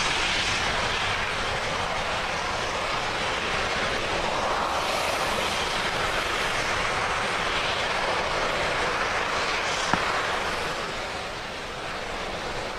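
A Falcon 9 rocket's first stage engine burn during ascent after max Q, a steady broad roaring rumble, distant and muffled, holding constant throughout.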